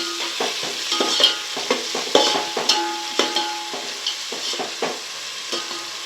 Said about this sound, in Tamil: இப்போ இது கூடவே வெங்காயம் ஃபுல்லாக வதக்கணும்